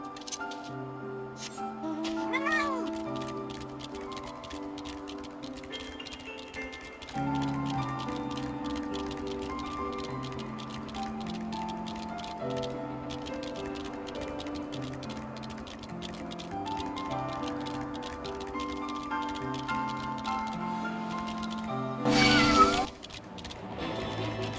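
Cat meows in the Final Fantasy XIV video game, heard over steady game music with a brief louder burst near the end.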